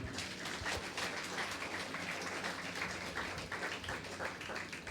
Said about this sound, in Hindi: क्यों ना परमेश्वर के लिए ताली बजाएं।